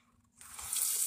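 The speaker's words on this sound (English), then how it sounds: "I need to drink some water from like the sink." A household sink tap is turned on after a brief quiet moment, and water begins running loudly and steadily into the basin, close by.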